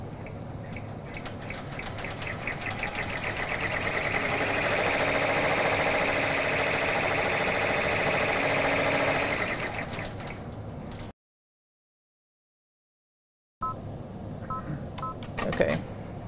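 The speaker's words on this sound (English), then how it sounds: "So the machine then stitches out your outline for you." A Brother PR-series embroidery machine stitches out a cutwork outline: a steady, fast mechanical chatter that swells and holds for about ten seconds, then cuts off, followed by a short break and quieter resumed clatter.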